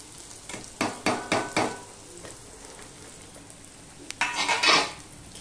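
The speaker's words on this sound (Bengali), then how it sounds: "পেঁয়াজটা লাল লাল করে ভাজতেই হবে পেঁয়াজ রসুনটা।" Onion and garlic fry in a pot with a steady low sizzle, interrupted by two bursts of stirring, a quick series of scraping strokes early on and a louder clatter near the end.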